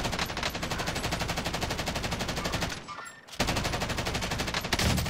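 Sustained automatic gunfire in the video game Call of Duty Warzone, a loud, rapid continuous burst that breaks off briefly and then resumes at full intensity.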